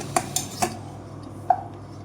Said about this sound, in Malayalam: ഇളക്കിക്കൊണ്ടിരിക്കുക